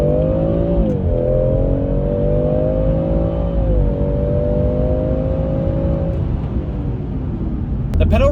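A 2017 BMW M140i xDrive accelerates on a freeway, its engine note heard from inside the cabin rising steadily and easing between gears over a constant road rumble, with people talking.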